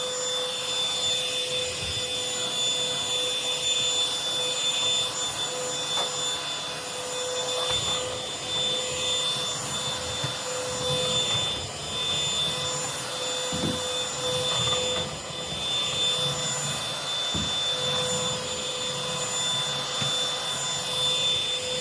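A SEBO vacuum cleaner runs inside a cold air return duct of a two-story house, a loud continuous roar with a steady whine, broken now and then by brief knocks and rattles of debris being drawn in.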